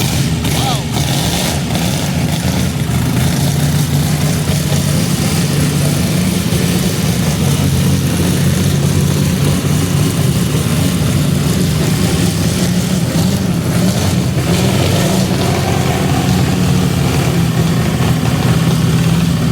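A Ferrari Grand Prix car engine idles loudly and continuously at the Goodwood Revival, a deep rumbling drone that never lets up.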